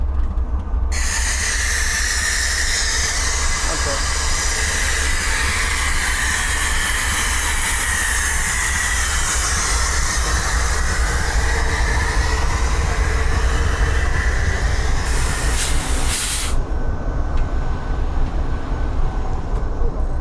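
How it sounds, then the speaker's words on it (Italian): A huge train made up of two diesel locomotives standing close by, giving off a steady loud engine rumble and broadband hiss that runs almost unbroken for about twenty seconds before easing slightly near the end. "Guardate che treno enorme"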